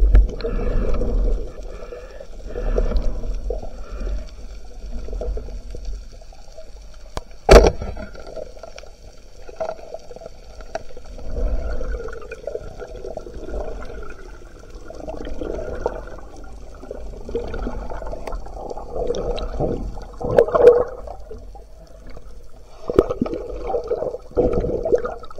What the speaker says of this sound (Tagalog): Napakalakas na ng agos.